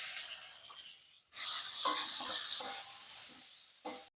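Chopped tomatoes drop into hot oil for a ridge gourd vegetarian dish and burst into a loud, close, steady sizzle that swells after a quieter start, then fades before a final short hiss, with no talk.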